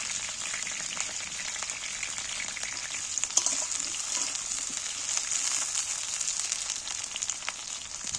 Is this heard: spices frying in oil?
yes